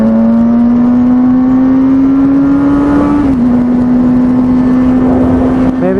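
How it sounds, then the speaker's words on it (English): A motor engine holds a steady loud drone close by, rising slowly in pitch, then drops briefly as if shifting down before settling and holding again, with no talking. "I used to love how downshifting sounds."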